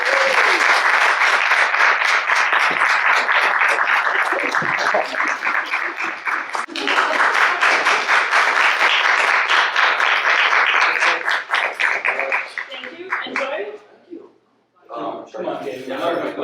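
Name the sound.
audience applause for the grand prize winner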